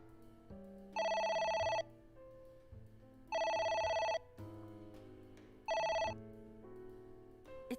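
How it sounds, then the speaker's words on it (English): A telephone bell in the video game The 4th AI: The Somnium Files rings in three separate bursts over a low electronic music bed, with no one speaking. "It won't stop ringing."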